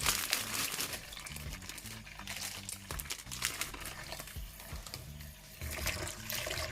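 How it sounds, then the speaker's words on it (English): Crinkly rustling and splashing as dried sea moss is poured into water, with irregular crackles and gurgles, close and fairly quiet. "I have some water over here, and I'm just gonna pour them in."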